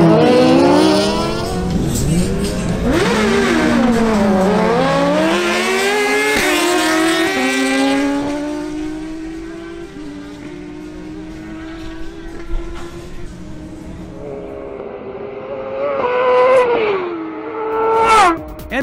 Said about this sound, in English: Now we have a showdown between Edward Manzano on his Suzuki GSX-R1000 and Wilson Penzo on his Honda